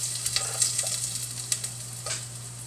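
Garlic fries in a pan over a steady low hum, with a soft continuous sizzle and a few faint clicks of stirring, close and fairly quiet.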